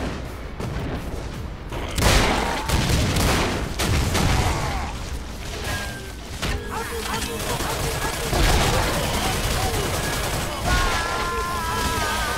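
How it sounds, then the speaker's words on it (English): Shotgun blasts and explosive booms from the side-scrolling game Crash Commando repeat across a dense, busy battle mix, with a few sharper loud hits standing out near the start and middle. "Shotgun this time."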